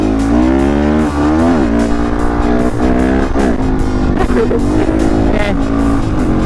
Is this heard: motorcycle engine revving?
yes